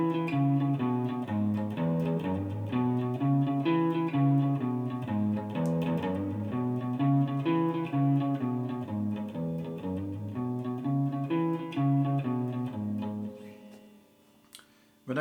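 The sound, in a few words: beginner blues boogie rhythm played on guitar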